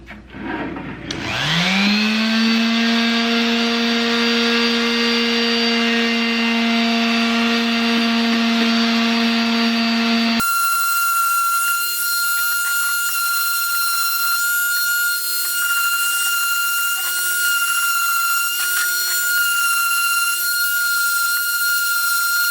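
A power sander works a comic-accurate Magneto helmet, its motor whining up to a steady high pitch within the first seconds and then running continuously, loud and close, before its tone shifts to a thinner, steady buzz.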